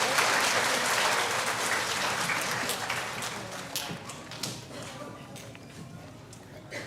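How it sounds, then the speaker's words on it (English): Loud applause from a school crowd for fifth and sixth graders that gradually fades into scattered claps, with a voice speaking underneath as it dies down. "Let's give a round of applause to our 5th and 6th grade friends."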